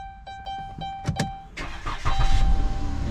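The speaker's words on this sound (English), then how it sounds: "Starts up the car." A 2014 Dodge Caravan is started with its new spare key fob: a few chimes and clicks, then the starter cranks briefly before the engine catches and settles into a loud, steady idle close by.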